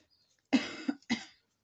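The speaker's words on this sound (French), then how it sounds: "j'ai une petite toux." A woman's short coughing fit in a quiet room: a strong cough, a smaller one, then a third after a brief gap, close and clear with no talk.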